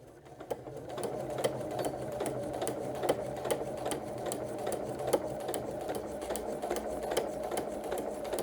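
A sewing machine stitches fabric for foundation paper piecing with a steady, close mechanical whir and evenly spaced needle clicks that run on without a break, with no voices.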